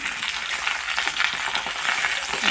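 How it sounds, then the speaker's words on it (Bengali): Vegetables frying in a pan while being stirred, a steady close sizzle with faint scraping movements throughout, no voices. "সব সবজিগুলো দিয়ে একটু নাড়াচাড়া করে দেবেন।"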